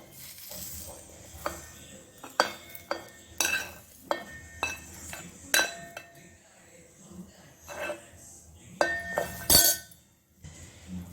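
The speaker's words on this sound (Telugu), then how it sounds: "ఇవి మిక్సీ జార్లో వేసుకోవాలి." Clinking and tapping of cooled fried spices being tipped into a mixer jar for a nallēru chutney, a string of light glassy and metallic knocks with a louder clatter near the end, close by and alone.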